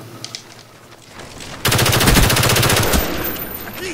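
Rapid automatic gunfire from the Call of Duty: Black Ops multiplayer game bursts in loud and close after a quieter stretch, a dense rattling stream lasting over a second before easing off.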